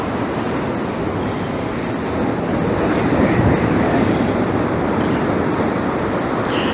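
Baltic Sea waves wash steadily onto a winter beach of purple sand under overcast skies, a continuous broad roar of surf with wind noise buffeting the microphone throughout, no voices.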